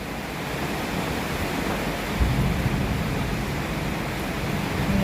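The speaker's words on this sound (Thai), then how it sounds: "ฝนตก" Steady heavy rain pours down in a dense, constant hiss, with a low rumble of distant thunder swelling briefly midway.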